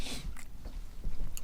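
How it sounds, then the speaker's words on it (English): Close-up chewing of Subway cookies, with a few soft crunching bites and mouth sounds spaced irregularly over a quiet background. "I think they can hear me chewing. Can you hear me chewing?"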